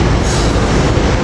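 A commuter train of rail cars rolls into a platform at Philadelphia's 30th Street Station, a loud, close, steady rumble of wheels on track with a metallic edge and no voices.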